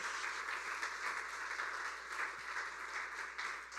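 Church congregation applauding during a Sunday sermon, a steady, even wash of clapping that fills the room without pause, moderately distant and soft.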